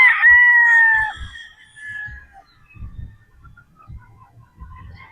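A Sweater Boston gamecock rooster crows once, loud and close, followed by soft low thumps and faint scuffling.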